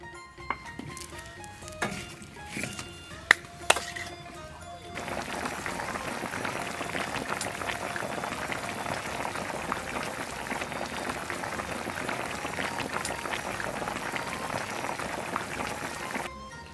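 A large pot of donkey leg simmers at a steady rolling boil over a high flame, in braising liquid of Shaoxing wine, soy sauce, rock sugar, honey, rabbit fat and pickled chilies. A few clinks come first, then continuous bubbling.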